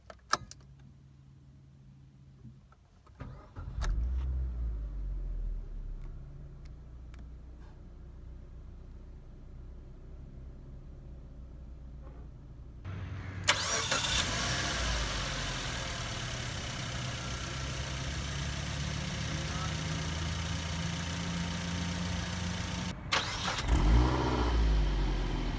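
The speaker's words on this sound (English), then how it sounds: "Now let us start up the engine." A Suzuki Swift's 1300cc engine cranks with a short starter whir and catches, then settles into a steady, smooth idle heard close up, with a brief rise in revs near the end and no talk.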